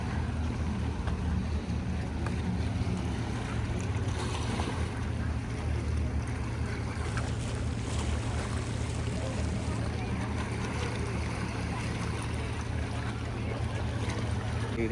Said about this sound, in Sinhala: කොහොමද බෝට්ටු රේස් එක?